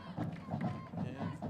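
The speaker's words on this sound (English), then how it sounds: "Enthusiastic crowd, although not real crowded like you see some other times." Lively crowd in the stands at a high school football game between Brownsville Veterans and Brownsville Lopez, a steady murmur of voices with rhythmic rising shouts and cheers heard from a short distance.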